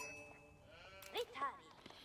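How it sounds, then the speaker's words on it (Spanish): Sheep bleat briefly in Age of Empires 4, two short wavering calls over a steady game background hum and tones, faint and quick within the mix. "vamos a tomar las ovejas aquí"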